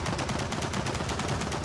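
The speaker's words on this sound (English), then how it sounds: "we gotta go take care of that turret" Rapid sustained turret fire in the Gears of War 4 video game, a dense loud stream of evenly spaced shots continuing without pause, with no talking.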